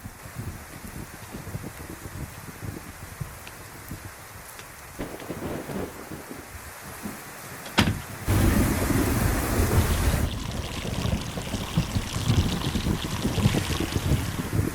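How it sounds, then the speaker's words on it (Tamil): Heavy rain pours steadily as thunder cracks sharply partway through, then the downpour swells louder and denser, a continuous rushing wash that fills the scene without any talking. "என்ன மழை இப்படி பெஞ்சுக்கிட்டே இருக்கே?"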